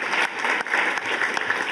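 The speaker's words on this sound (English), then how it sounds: "So also an applause to you that participated." Conference participants applaud at the end of a long day of adult-learning funding discussions, a dense, steady burst of many hands clapping indoors for under two seconds, with no talk over it.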